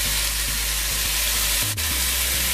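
Small smelt fry in hot, oily masala in a Guyanese dry curry, giving a steady loud sizzle with faint rhythmic stirring taps beneath and a brief scrape partway through.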